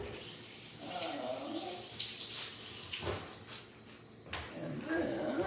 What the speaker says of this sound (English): Gonna give them a quick rinse.